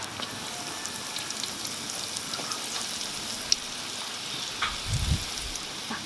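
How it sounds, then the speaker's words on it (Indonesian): Shrimp paste (terasi) fries in a pan with a steady fine sizzle, a brief clatter of stirring near the end and no talk. "Pertama kita goreng terasi."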